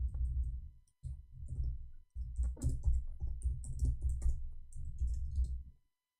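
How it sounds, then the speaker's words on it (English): Someone types on a computer keyboard in quick, uneven bursts of clicking keystrokes, with short pauses between runs and no talking over it. "I will give you an example while I'm typing in English."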